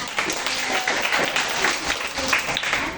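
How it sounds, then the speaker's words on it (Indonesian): A classroom group claps and applauds continuously for a few seconds, a dense, even patter of many hands at moderate loudness. "Oke, tepuk tangan."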